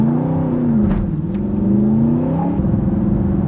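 An Aston Martin pulled away hard from a busy roundabout, its engine revving up in a loud, rising, rumbling pitch sweep that dips and climbs again, close by.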